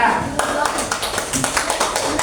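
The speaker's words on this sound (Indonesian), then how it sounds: "Nah, tepuk tangan." A classroom of students clapping hands together, a close, steady run of quick claps after a brief moment of voices.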